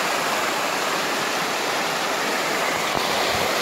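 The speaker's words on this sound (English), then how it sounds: "Water is pouring." Creek water pours steadily over rocks in a Smoky Mountains creek bed near old cabins, a loud, continuous rushing wash close by with no voices.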